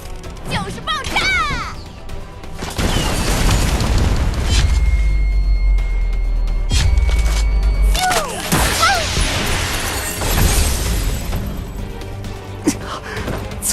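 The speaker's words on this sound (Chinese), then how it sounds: "就是爆炸！" An explosion in a 3D anime-style game cutscene lands as a heavy booming crash amid clattering impacts and rumbling debris, with character voices shouting before and after.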